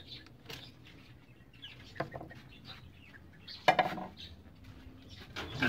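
Chickens just let out of their coop give scattered soft clucks amid clattering and knocking nearby, the sounds faint and intermittent with a louder burst of rattling near the end.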